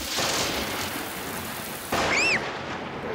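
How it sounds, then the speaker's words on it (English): A cartoon thunderstorm brings a sudden thunder crack over steady rain noise, loud and close, with a brief high whistling tone just after the bang. "the thunder bangs are very loud"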